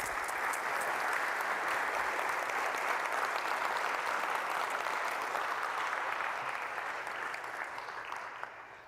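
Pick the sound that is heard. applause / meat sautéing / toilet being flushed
applause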